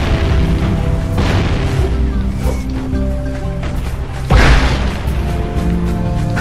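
Bombs explode in the Jak & Daxter video game on Sentinel Beach, with one deep, loud boom standing out amid ongoing game sound effects and music, and no talking.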